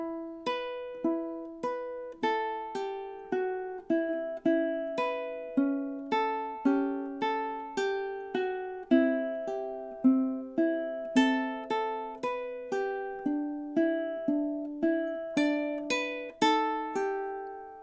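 Ukulele plays measures 13 to 16 of a song slowly, clear plucked notes and strummed chords in a steady even rhythm, each decaying quickly, heard alone and close.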